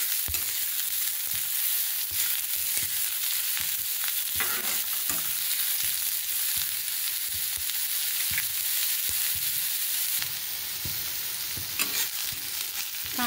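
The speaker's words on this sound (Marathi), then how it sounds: "तांबूस कलर येईपर्यंत कांदा परतून घ्यायचा आहे आपल्याला" Sliced onion fries in oil until reddish brown, a constant close crackling sizzle with repeated scraping strokes of a spatula against the pan, steady and unbroken with no one talking.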